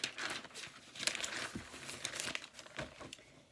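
A sheet of paper crinkles and rustles as it is handled nearby, with repeated soft crumpling bursts that run steadily through the moment and no voice over them.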